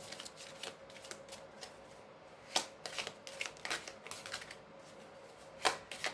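A deck of oracle cards being shuffled by hand, giving irregular papery riffles and slaps with a few sharper snaps, close and fairly quiet, with no talking.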